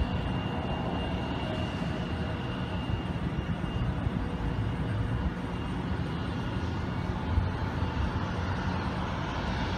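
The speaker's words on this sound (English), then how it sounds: "The Delta plane finally has clearance and it's finally moving." Delta airliner taxiing at John Glenn International Airport, a steady broadband engine rumble with a faint whine that stays at an even, fairly close loudness throughout, no voices.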